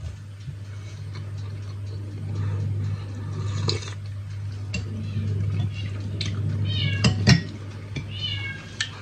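Meows from a kitten come in a few short, scattered calls over a steady low hum, with small clicks and drips between them.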